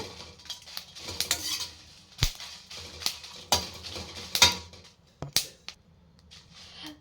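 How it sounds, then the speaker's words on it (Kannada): Red chillies dry-roast without oil in a pan for peanut chutney powder, giving sharp, irregular crackles and pops, with occasional metallic scrapes as they are stirred, close and fairly loud. "ಮೆಣಸಿನ್ಕಾಯಿ ಪಟ್ ಚಟ್ ಪಟ್ ಅಂತ ಇದೆ"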